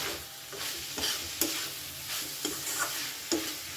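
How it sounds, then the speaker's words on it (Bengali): Banana flower and prawn mixture stirred with dry flour in a pan, continuous close sizzling with repeated scraping strokes and small knocks of the spoon. "ভালো করে এটাকে এবার আমি মিশিয়ে নেব"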